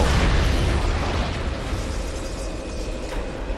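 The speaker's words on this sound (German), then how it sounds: "Das explodiert bestimmt jetzt auch gleich." A large explosion in the video game Crysis, a loud broad roaring blast that rumbles and slowly decays over a few seconds, heard alone without talk.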